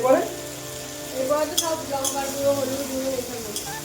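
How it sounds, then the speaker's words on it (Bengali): Spice masala for a chicken curry sizzles as it fries in a pan, with a soft background crackle and a few sharp stirring clicks. A faint voice murmurs underneath. "ঠিক আছে, মশলাটা একটু কষাচ্ছে।"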